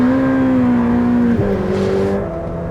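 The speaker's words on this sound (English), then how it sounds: "I love the way the engine revs out. That Inconel exhaust gives us a better sound." A Ferrari 488 Pista with an Inconel exhaust revs hard, its engine note climbing steadily then dropping at a gear change before rising again, loud and close throughout.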